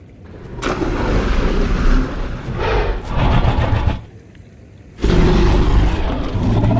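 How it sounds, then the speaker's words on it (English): Water splashing and rushing as a toy dinosaur swims in a lake, in loud, noisy bursts with a brief quieter gap before a strong final surge. "heard the splash."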